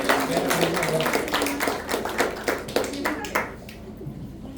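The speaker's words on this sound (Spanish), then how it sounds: "Niños, reciban un aplauso" A church gathering applauds a group of children, scattered hand clapping at moderate volume with voices talking over it, tapering off toward the end.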